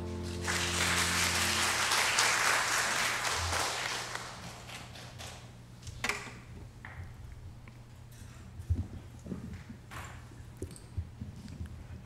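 A church congregation at a Sunday Taiwanese-language worship service breaks into loud, sustained applause for several seconds, then tapers into scattered claps and light knocks in a large room.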